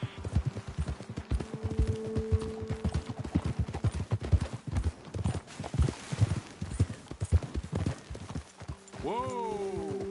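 Horses trot in Red Dead Redemption 2 with a steady, close run of hoof clip-clops. A brief rising tonal call sounds near the end.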